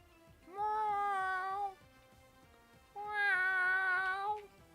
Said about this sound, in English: Now I have my cat meowing.